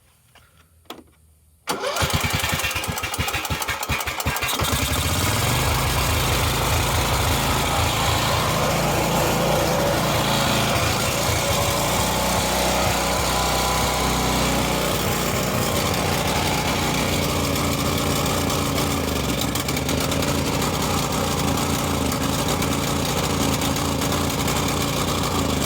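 Husqvarna LTH 18538 lawn tractor engine, with valve trouble and blow-by, starts after a short quiet moment and then runs loud and steady close by, rough and rumbling throughout, with no talking over it.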